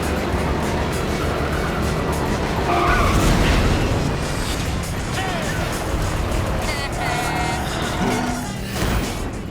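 Karts in ModNations Racer roar off the starting line together, with a dense wash of engines and skidding tyres that stays loud throughout, while an announcer's voice speaks over the racing.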